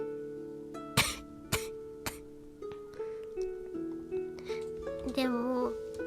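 A person recovering from COVID with a sore throat gives several short, sharp coughs spaced apart, close and moderately loud, while a soft voice or hum carries on between them.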